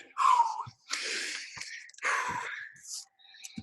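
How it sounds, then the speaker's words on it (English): A winded person pants heavily just after sets of jumping exercises, giving four or five harsh, gasping breaths close to the microphone with short pauses between them. "Hopefully I'm not breathing too loud when I come close to the camera."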